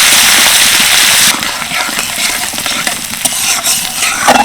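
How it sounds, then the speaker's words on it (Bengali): Grated ginger and chopped chillies lightly frying in a pan for a spiced potato dish: a steady, loud, close sizzle with stirring scrapes that drops slightly in level partway through and continues without speech. "অল্প একটু গ্রেট করা আদা আর কয়েকটা লঙ্কা কুচি হালকা ভেজে নিচ্ছি"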